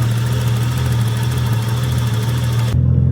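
A Nissan R34's engine idles with a steady low drone and hum, nearby and fairly loud, the high-end noise dropping away abruptly near the end while the low rumble carries on, consistent with an uneven surging idle.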